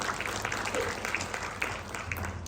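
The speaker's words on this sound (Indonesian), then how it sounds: "Berikan tepuk tangan bagi dia." Church congregation at an Easter service applauding together, a steady wash of many hands clapping with some low crowd murmur underneath.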